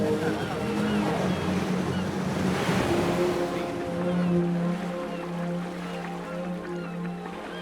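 A small boat crosses the open sea from Malta to Comino, with steady engine drone, wind buffeting the microphone and washing waves, while people talk faintly underneath.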